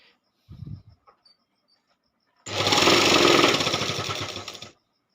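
A sewing machine stitches a border strip onto a quilt made from an old saree: one loud, continuous whirring run of about two seconds follows a quiet stretch with a few brief handling knocks.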